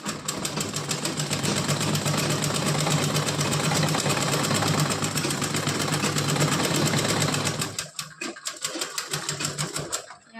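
A sewing machine runs a straight seam on a small frock for a Laddu Gopal doll, whirring steadily and close for about eight seconds before slowing into a few short stuttering stitches and stopping.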